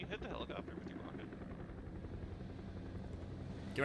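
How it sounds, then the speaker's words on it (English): Steady helicopter rotor drone from the PUBG video game, continuous and moderately loud throughout, with game noise and a voice talking over it. "Can you hit the helicopter with your rocket?"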